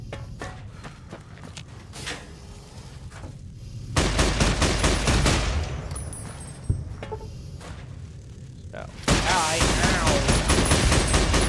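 Gunshots in a video game ring out in dense, loud rapid-fire bursts separated by quieter stretches with footsteps and movement, with the heaviest volleys at the start, the middle and the end.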